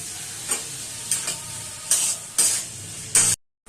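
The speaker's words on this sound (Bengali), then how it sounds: "একটু ভেজে নিই ভালো করে।" Vegetables for dalma fry and get stirred in a pan with a lightly salted, steady sizzle, broken by about five sharp scraping strokes of the spoon before the sound cuts off.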